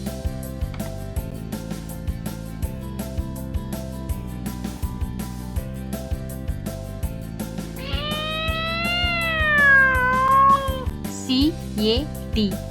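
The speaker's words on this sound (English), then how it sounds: "C-A-T cat." A cat meows once, a clear rising-and-falling call over a bouncy children's music backing, followed by a brief higher squeak near the end.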